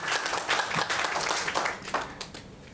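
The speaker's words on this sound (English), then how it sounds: "Round of applause" A Toastmasters meeting audience gives a round of applause: quiet, brisk clapping from a modest group of people, steady and fairly close, fading slightly toward the end.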